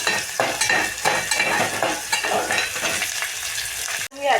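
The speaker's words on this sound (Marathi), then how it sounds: "भाजून घ्या भाजून घ्या भाजून घ्या आधी" Curry leaves and masala frying in a pan, a steady loud sizzle with stirring scrapes throughout, briefly cutting out near the end before resuming.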